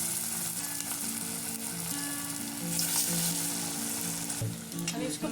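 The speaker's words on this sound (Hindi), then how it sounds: "अब मैं टिक्की फ्राई करेंगे इसमें। ऑयल गर्म हो गया, उसमें डाल देंगे।" Chana tikki patties fry in hot oil in a kadai, a steady close sizzle and crackle running throughout with a low hum beneath and a few faint clinks near the end.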